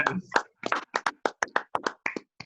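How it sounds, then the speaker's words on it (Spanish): Close, rhythmic hand clapping from a small audience thanking the guests at the end of a talk with Pablo Prigioni, with crisp, evenly spaced claps in a steady beat. "tenemos que hacerle un fuerte aplauso a ustedes"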